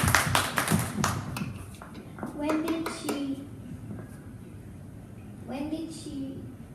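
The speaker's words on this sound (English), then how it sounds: "Let's have a round of applause for the young lady." An audience claps for a young girl at a question-and-answer event, with a brief burst of applause at the start that thins out, followed by people talking.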